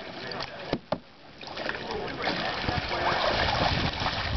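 A kayak rocks in the water during a kayaking class, with sloshing and knocking against the hull and a couple of sharp splashes, steady water noise throughout.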